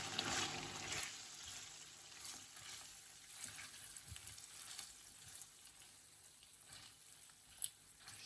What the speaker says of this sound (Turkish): Etlerimiz ve soğan tamamen kavruldu. Artık fasulyeyi üzerine ekleyebiliriz.